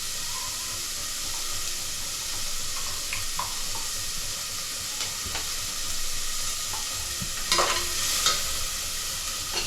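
Spices and bay leaves are sautéed in a pan for a mutton curry. A constant sizzle sits under scattered stirring knocks and scrapes, with a few sharper clatters near the end.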